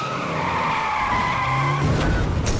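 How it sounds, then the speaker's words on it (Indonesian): A car skids with a long, loud tire screech, building toward an impact on a man in a dramatic drama scene, with no talk over it. "tiba-tiba Pansu ditabrak oleh istrinya sendiri yang sudah berada di dalam mobil."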